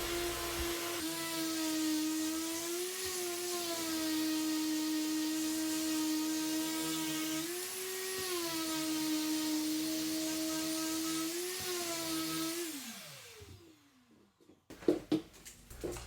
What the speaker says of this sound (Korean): 버려진 목재이다 보니 오염되고 칠해진 부분을 사포로 제거합니다.